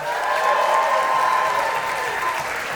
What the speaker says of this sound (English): guys, clap it up for Ashlynn